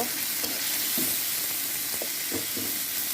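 Chanda fish frying in a pan, a steady broadband sizzle with occasional soft stirring scrapes, close and continuous, with no one talking.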